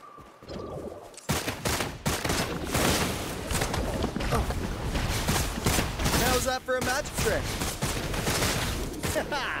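Rapid game gunfire from Wuthering Waves, during the Yinlin quest Solitary Path, crackling in dense bursts after a quiet opening second and running loud and continuous, mixed with other game sounds.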